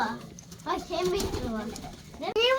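İşlemeli pigeons coo at feeding time, soft repeated warbling calls close by, with a child's and adult's voices mixed in over the birds.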